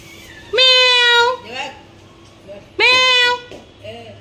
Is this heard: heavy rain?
no